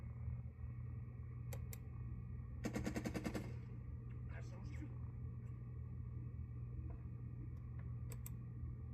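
A single rapid burst of machine-gun fire rattles briefly in the Burden of Command video game, set against a low steady rumble, with a few faint ticks before and after and quiet talk in the background.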